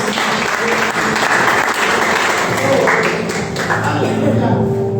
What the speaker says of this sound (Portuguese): Quem crê, aplauda Jesus nessa noite